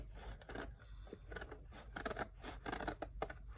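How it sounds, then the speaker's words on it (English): Scissors slowly trimming excess material from a no-sew notebook cover, giving quiet, close snips and scratchy scraping in short uneven bursts. "Just slowly cut away the excess."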